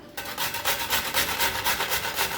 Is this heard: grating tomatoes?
yes